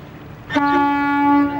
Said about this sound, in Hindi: हॉर्न है ये।